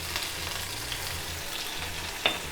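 Mustard seeds, urad dal, ginger and curry leaves sizzle in hot oil with a steady close frying hiss and a single brief sharp clink near the end, with no voices.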